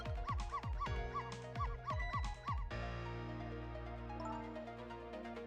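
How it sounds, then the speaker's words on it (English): Barking and yipping from a small dog in the Ghost Trick: Phantom Detective video game, a quick run of sharp repeated barks for about three seconds that then gives way to a sustained tonal game sound. "So if you bark like that, you'll make the lady next door start howling."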